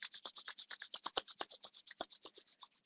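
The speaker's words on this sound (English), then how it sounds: "Rub the palms" Two palms rub briskly together close up, a rhythmic series of soft dry swishes repeating about eight times per second, with no speech.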